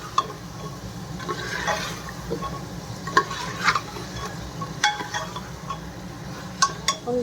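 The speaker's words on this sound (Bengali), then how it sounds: "এই যে মাংসটা কষাচ্ছি" Mutton pieces stir-fried with spices in a pan make a steady low sizzle, broken by repeated scraping and clinking of the spoon against the pot at an irregular rhythm, close up with no talking.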